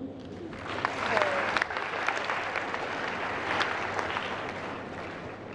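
Audience at a peace-promotion event applauds a bishop, a sustained burst of clapping from a gathered crowd, fairly close and steady for several seconds.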